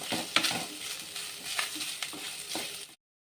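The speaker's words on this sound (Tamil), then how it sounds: "நல்லா வதங்கிடுச்சு தேங்காய்" Grated coconut sautés in a pan while cooking a beetroot poriyal, giving a soft, steady sizzle with a few scraping stirs before it cuts off.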